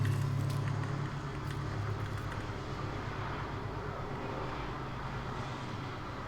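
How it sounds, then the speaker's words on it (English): A helicopter flies overhead outdoors, heard as a steady, faint low rumble and drone that holds throughout, slightly louder at first and then even, with no voices. "Bloody helicopter flying around."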